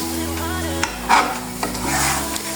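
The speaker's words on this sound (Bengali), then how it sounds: "মশলাটা মিশিয়ে নিলে আমাদের আচারটা পুরোপুরি রেডি।" Thick spice paste being stirred and mixed into homemade olive pickle sweetened with sugar, a steady close scraping and squelching with a faint sizzle, a few louder stirs, no talk.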